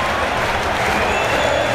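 Stadium crowd in PES 2018 roaring and cheering after a winning goal, a dense, sustained wash of noise from the stands, with a voice talking faintly underneath.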